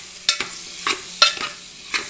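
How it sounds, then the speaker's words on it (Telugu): Boiled pullaganda pieces are stirred into chili paste in a pan, with four distinct scraping strokes of the spoon close by and a faint sizzle in between. "ఈ కారంలో వీటిని కలపాలి."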